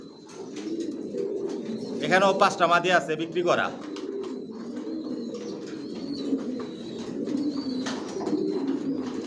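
Johnson-line racing pigeons coo in a steady, close, low murmur that continues throughout, while a person speaks briefly over the birds near the start.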